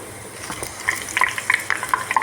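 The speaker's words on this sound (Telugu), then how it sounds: "ఇప్పుడు నేను తాలింపు పెట్టుకుంటున్నానండి వెల్లిపాయలు ఎండుమిర్చి కరివేపాకు తాలింపు గింజలు అన్నీ వేసి చక్కగా పెట్టుకొని" Garlic, dried red chilies, curry leaves and seeds crackle in hot oil for a tempering, with a light steady sizzle, sharp little pops and stirring scrapes, close and without talk.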